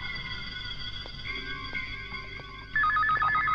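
A telephone rings in a film scene, its electronic ringtone repeating in bursts that grow louder toward the end, with no voices.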